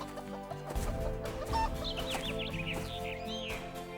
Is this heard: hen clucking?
yes